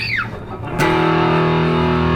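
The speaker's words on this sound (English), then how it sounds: "the other switch is for adding distortion" A homemade guitar built from a VW part plays through a built-in distortion circuit into a stereo. A short swooping tone comes first, then a sustained buzzy distorted note rings steadily.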